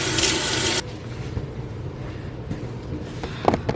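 Tap water gushes into a kitchen sink for hand washing, a loud steady hiss that cuts off abruptly, followed by quieter clinks and handling sounds in the room.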